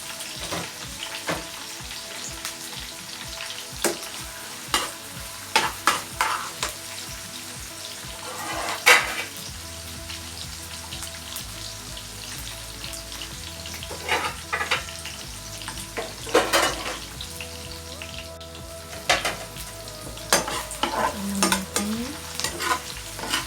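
Squid adobo with small chilies being stirred in a pan, an ongoing sizzle broken by repeated scraping and tapping of the spoon, close and fairly clear, with faint music underneath.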